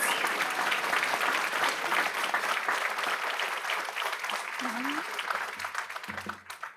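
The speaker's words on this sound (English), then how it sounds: "let's do one more round of applause for our art contest winners" Applause for art contest winners at a school board meeting, a sustained round of clapping from the room at full volume, tapering off near the end as a voice briefly comes in.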